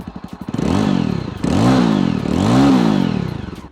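A Jawa Perak BS6 bobber motorcycle revs hard through its twin exhaust, starting with a few idle pops and then rising in two long, loud blips. The sound is close and has no talk over it.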